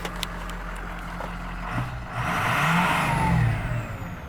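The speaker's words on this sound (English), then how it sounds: "we'll give it a rev. We'll give it a good one." A work truck engine is revved once hard from idle, its low rumble climbing into a strong rising roar and easing back, heard close and alone with a few clicks at the start.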